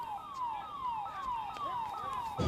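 Police car siren on a night patrol in Rajkot, repeating rapid falling wails about every half second, fairly close and steady over a low background rumble, with no voices.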